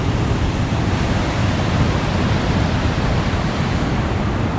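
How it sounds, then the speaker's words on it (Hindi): Water pouring down from the Nisramont dam barrage in Belgium, a loud, continuous broadband rush that stays constant throughout, with no voices. "और इधर से वो देखिए पानी नीचे को जा रहा है।"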